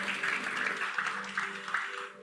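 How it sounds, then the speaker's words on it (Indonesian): A church congregation claps together in a steady, moderately loud applause that fades slightly toward the end, with a faint tonal hum underneath. "Kita berikan tepuk tangan buat Tuhan Yesus."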